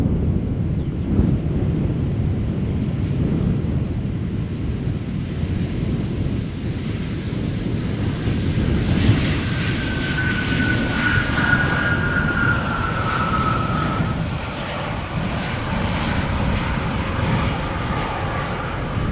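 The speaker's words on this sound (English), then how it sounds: "Embraer 190 arriving from Bergen." A KLM Embraer 190 airliner arriving at Amsterdam Schiphol Airport, a loud sustained jet engine roar with rising whine and wind rumble as it passes close by, no talk.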